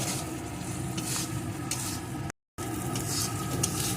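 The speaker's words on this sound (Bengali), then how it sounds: "এটাকে মশলার সাথে ভালো করে কষিয়ে নেব সোয়াবিনের যতক্ষণ না কাঁচা গন্ধটা দূর হয়ে যায় ততক্ষণ এইভাবে কষিয়ে নিতে হবে" Boiled soybean chunks are stir-fried with spices in a pan, giving a dense, even sizzle with soft stirring scrapes, cut by a brief moment of total silence midway before the frying resumes.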